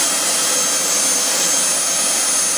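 A model F-4 turbine jet engine runs at its first start-up, a loud, steady high-pitched whine and roar held constant throughout, close to the microphone with no talking.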